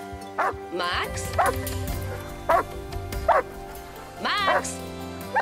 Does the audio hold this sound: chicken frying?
no